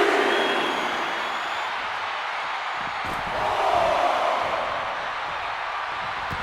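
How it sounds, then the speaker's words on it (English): A raucous wrestling arena crowd in the video game WWE 2K26 roars as a steady, dense wash of noise, swelling slightly midway and holding at a constant loud level throughout. "Now entering the raucous crowd."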